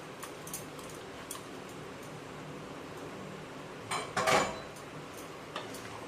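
Mustard-poppy paste is stirred into vegetables in a pan, with soft scraping and a short burst of metal clinks against the pan over quiet background hiss.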